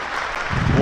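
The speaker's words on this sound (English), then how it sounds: "Warm round of applause from this crowd here at the Ageas Bowl" A cricket crowd at the Ageas Bowl applauds a batsman's half-century in a one-day cup quarter final, the clapping building into a dense patter over a brief moment.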